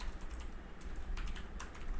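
Rapid, irregular clatter of keys on a computer keyboard during coding, close and steady with short bursts and pauses over a low background hum, no voices.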